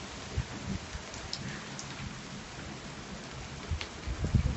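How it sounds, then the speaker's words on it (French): Heavy rain pouring during a thunderstorm near Montferrier-sur-Lez in Occitania, a dense steady hiss of drops on surfaces with scattered louder splashes and faint low rumbles, no voices. "la pluie quand même est en train de bien tomber."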